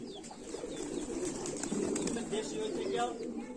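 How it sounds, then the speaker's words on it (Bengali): Big pigeons at a pigeon seller's, giving soft low cooing calls that repeat under nearby chatter and background noise. "আচ্ছা ভাই, এই যে বড় বড় কবুতরগুলো এগুলা কি কবুতর?"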